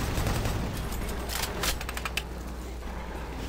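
Rapid gunfire from the Doom 3 video game, fired aimlessly, comes as a run of quick crackling shots over a steady low background rumble, fairly faint overall.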